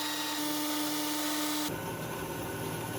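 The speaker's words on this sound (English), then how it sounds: "Now we are going to machine this aluminum cylinder." Aluminum cylinder being machined for a recoil starter mount on a 220V 10kW generator alternator shaft: a steady, loud broadband cutting whine with a sustained tone that shifts abruptly partway through, continuing without pause.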